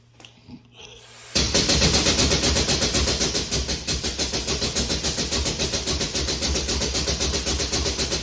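Engine-driven pump at a water tank fill station on a rig, starting abruptly after a brief quiet moment, then running loud and close with a rapid, even pulsing chug.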